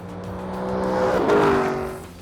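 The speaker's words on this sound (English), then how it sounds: "The most expensive rear drive coupe at ABDC 2018 heads down the quarter mile next. And the Lexus LC500 is faster than the Stinger by a couple of tenths." A Lexus LC500 rear-drive coupe accelerates hard down a quarter-mile drag strip during performance testing, its engine note swelling loudly as it approaches and passes close by.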